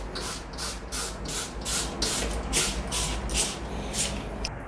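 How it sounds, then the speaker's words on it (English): A spray bottle mists neem oil solution mixed with ivermectin onto plant leaves, stems and petioles in about ten quick, evenly spaced hissing squirts, close and fairly loud over a low background hum. "So I'm just going to give it a generous spray."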